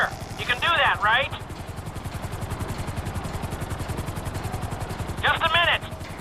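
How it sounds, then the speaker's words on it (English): A helicopter hovers in Grand Theft Auto V, its rotor thumping in a steady fast pulse throughout, loud and close, while bursts of in-game chatter or radio voices cut in at the start and again near the end. "Just hold the chopper here."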